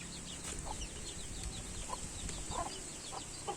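Chickens cluck softly and intermittently, a hen with chicks scratching and feeding outdoors, with short clucks scattered over steady ambient background and no talking.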